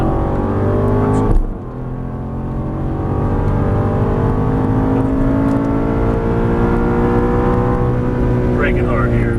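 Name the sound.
Aston Martin GT race car engine accelerating on track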